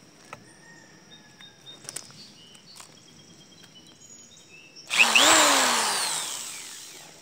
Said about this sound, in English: here's the drill.